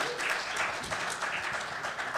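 An audience at a GenCon live show claps steadily in a dense, continuous wash of applause that stays even and moderately loud throughout, with no voices standing out.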